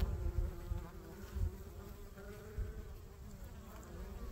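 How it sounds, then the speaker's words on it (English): Bees, likely robber bees, buzz at the entrance of a beehive, a steady close droning hum with a few louder swells as insects pass near. "there's actually bees right there trying to get out. Those probably are the robber bees."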